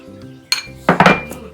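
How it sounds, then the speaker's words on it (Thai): A utensil clinks against a bowl as hot whipped cream is stirred into dark chocolate, giving a few sharp, close knocks and scrapes with short pauses between them. "แล้วเราก็จะคนให้เข้ากันนะคะ"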